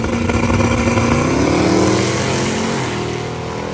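A Hemi Coronet drag car roars loudly down the strip on a pass, its engine note climbing steadily then fading as it pulls away at a drag-and-drive event.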